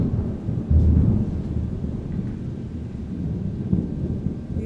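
Thunder rumbles low and heavy through a steady rain during a storm, with a deeper roll near the start and the downpour hissing on underneath throughout.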